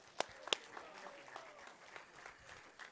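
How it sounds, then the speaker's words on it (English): A church congregation gives a scattered round of clapping during a Sunday service, a few sharp close claps standing out over softer, thinner applause further back. "give them a clap."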